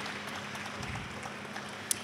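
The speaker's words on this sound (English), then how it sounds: "Let's hear a round of applause for them." An audience at an indoor launch event gives a faint, distant round of applause, a steady wash of clapping for about two seconds.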